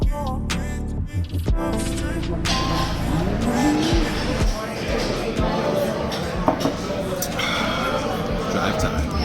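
A 2024 Porsche 911 GTS is driven with engine roar and tire noise. A voice talks over the sound, and it is loud and steady throughout.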